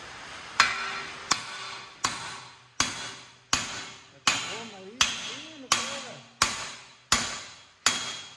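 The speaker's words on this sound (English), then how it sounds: "now we're going to knock this hub out with 2 hammers" Eleven sharp, loud metal hammer blows land at a steady rhythm, each ringing briefly, as two hammers knock out the front wheel hub of a 2012-2015 Honda Civic, with faint speech in the background.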